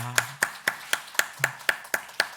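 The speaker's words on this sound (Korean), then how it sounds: "하나님께 감사와 영광의 박수를 우리 다시 한번 드리고 싶습니다" A few hands clap in a slow, even rhythm, about nine separate claps spaced roughly a quarter second apart, at a Christmas church service. The claps are close and fairly quiet, with no talk over them.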